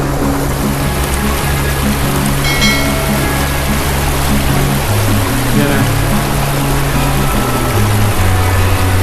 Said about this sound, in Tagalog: lakas ng ilog ragasa ngayon